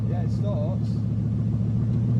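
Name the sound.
Bugatti Veyron engine starting and running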